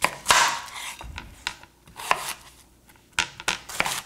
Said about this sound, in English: Give it a nice slice down the center.